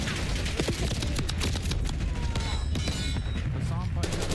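Rapid gunfire in the video game Call of Duty Black Ops 6, with dense overlapping shots and bursts that stay loud and close for the whole stretch, with no pause in the shooting.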